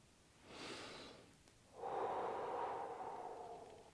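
Deep conscious breathing, close and unhurried: a soft inhale, a short pause, then a longer, fuller exhale, heard alone with no talking.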